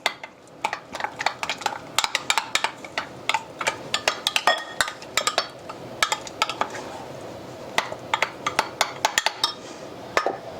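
Ingredients for an espresso coffee cake being stirred in a bowl with a small spoon, a steady run of quick clinks and scrapes against the bowl, close and clear with no talking.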